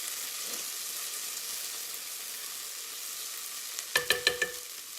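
Onions and garlic fry in a pan, giving a steady, fairly quiet hiss that runs throughout, with a quick burst of utensil clatter near the end.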